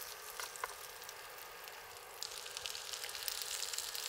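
A lamb chop fries in a pan at a rainy car campsite, giving a steady, close crackling sizzle with scattered sharp pops and no voices.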